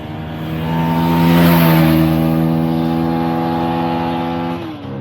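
An FB Mondial Piega 125cc motorcycle accelerates hard, its engine note climbing into a loud, steady buzzing drone that holds for several seconds before easing off, close up, with no talking.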